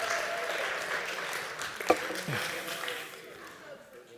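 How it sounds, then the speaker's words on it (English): A live audience claps for a volunteer called up on stage, a short burst of applause with a sharp clap near the middle that fades out toward the end. "Could I get a round of applause for our voluntold?"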